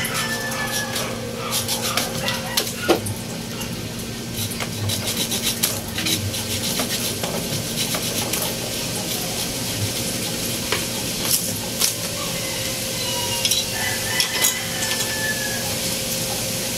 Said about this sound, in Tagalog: Kuha tayong lagari. Ito guys, puputulin natin ito dito.